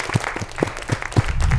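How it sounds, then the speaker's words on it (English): Short burst of clapping from a small podcast audience, a few distinct claps in uneven rhythm, close and fairly loud. "Round of applause."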